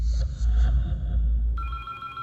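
An office telephone in a horror film scene starts ringing near the end, a bright electronic ring that follows a heavy low rumbling drone.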